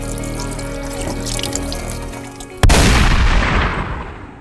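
Tap water runs into a sink while a fish fillet, redfish, trout or sheepshead, is rinsed, then a sudden loud splash and heavier rushing water take over.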